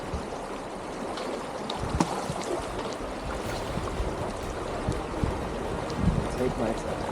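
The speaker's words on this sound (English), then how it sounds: "Water is flowing this way" A cold, knee-to-thigh-deep stream flows past a hiker wading across it on the Arizona Trail, a steady close rush and gurgle of water with occasional splashes and some wind buffeting the microphone.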